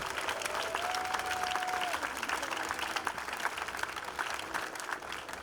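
Rally crowd at a peaceful outdoor gathering in Peekskill, New York, applauding in a steady, dense wash of clapping that holds for several seconds, moderately distant.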